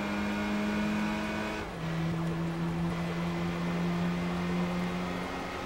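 Chrysler PT Cruiser engine in Gran Turismo 3 racing at high speed, a steady loud droning whine that drops in pitch with a gear shift near two seconds, then holds a sustained high rev to the end.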